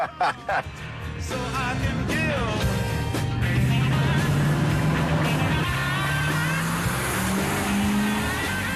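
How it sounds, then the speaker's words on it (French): A modified Volkswagen Touareg with a V8 engine and a homemade exhaust revs and then drives off with a loud, rising growl. Brief voices and clicks come just before the engine pulls away. "J'adore le son du V8. V8 engine. Et tu as modifié l'échappement?"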